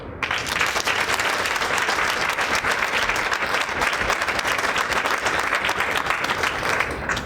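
Loud, dense applause from a large crowd at an International Customs Day event in Cape Town, sustained and even throughout with no pauses.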